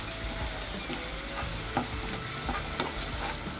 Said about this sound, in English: And fry for a few minutes.